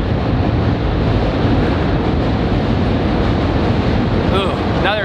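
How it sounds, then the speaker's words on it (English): Loud, steady rumble of a train passing overhead while skateboarders practise tricks beneath the rail structure, a continuous roar filling the clip with brief voices near the end. "Sorry about the noise. We're literally under a train."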